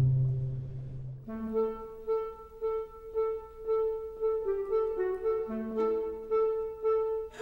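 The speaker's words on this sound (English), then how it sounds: "That noise is the socializing of sea lions who like to haul out on the docks" Sea lions hauled out on docks, socializing with sustained, harmonic barking and honking calls that overlap and shift in pitch, fairly loud and continuous throughout with no talking.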